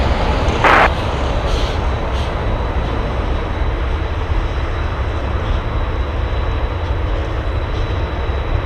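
A Delta airliner takes off from runway 7 left at Anchorage airport, its jet engines producing a loud, steady broadband roar that holds unbroken for the whole stretch.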